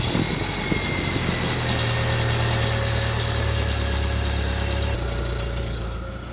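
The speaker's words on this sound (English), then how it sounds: "So this is a cold startup on a 1998 BMW Z3." A 1998 BMW Z3 engine on a cold start settling into idle, a continuous low rumbling drone with a steady hum that drops slightly in pitch toward the end.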